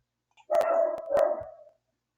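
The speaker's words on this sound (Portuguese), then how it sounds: "O cachorro está cada vez mais bravo aqui." An agitated dog barks angrily in one sustained outburst, two loud harsh barks running into a growling, whining tone, close and clear with no other sound around it.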